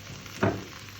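Water hits a hot pan of carrots, bursting into one short, loud sizzle that quickly fades back to a low frying hiss.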